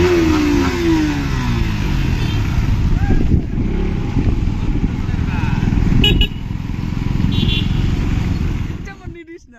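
A group of ten motorcycles carrying twenty riders on a village Holi outing to a fair, with loud, continuous engine drone and revving close by for the whole stretch, voices mixed in.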